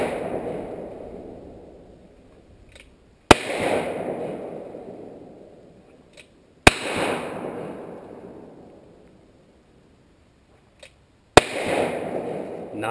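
Three sharp, loud gunshots ring out several seconds apart during quick draw shooting at a playing card outdoors, each crack followed by a long fading echo, with faint clicks in between.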